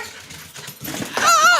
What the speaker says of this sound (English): I hear the dogs howling too.